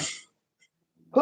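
A single sharp sneeze bursts out, close and loud, followed by a short silence and then a voice starting to speak.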